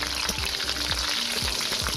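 Prawns with tomato and coriander leaves being stirred in a hot pan, a steady close sizzle with repeated scraping strokes of the spoon at a fairly even rhythm, no voices.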